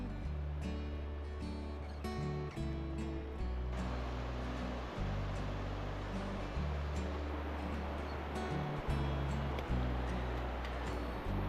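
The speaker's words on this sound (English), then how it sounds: "The water flowing down the smooth river rocks" River water rushes over smooth rocks in a narrow red-rock canyon, a continuous broadband wash of flowing water, steady and fairly close, beneath background music.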